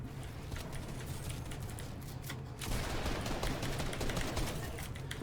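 Rapid gunfire in Fortnite during a solo cash cup match, a dense rattling stream of shots that grows louder and fuller about halfway through and keeps going to the end.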